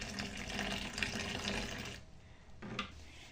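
Condensed milk tea being poured through a filter into a vessel, a steady close liquid splash for about two seconds before tapering to a thin trickle and a final drip, with no talking.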